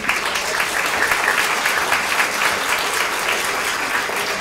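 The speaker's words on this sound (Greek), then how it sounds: "τον ευχαριστούμε πάρα πολύ και τον χειροκροτούμε" Dense, steady applause from an audience at an election campaign rally in a cafe, loud and close, sustained evenly throughout without pauses.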